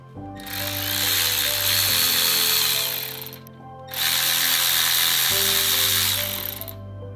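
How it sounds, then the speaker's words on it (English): A power tool whirs in two sustained bursts, each a few seconds long with a brief pause between, while 10 mm bolts are removed during a Mitsubishi Evo 8/9 radiator install; loud and close, no talking. "I have to take these two bolts off."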